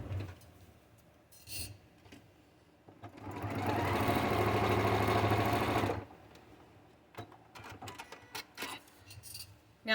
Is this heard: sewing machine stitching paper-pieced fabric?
yes